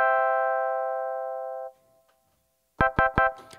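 A sustained 1-3-5 chord from a synth in MPC Beats software holds for over a second and a half, then after a pause three short, bright chord stabs ring out in quick succession.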